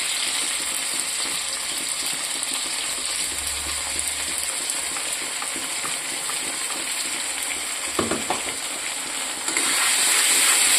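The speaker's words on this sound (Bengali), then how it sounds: "মশলাটা দিয়ে এখন কিছুক্ষণ ভাজবো।" Spice masala frying in a pan with onion and tomato, a steady loud hiss and sizzle throughout, a brief clatter near the end as the sound swells.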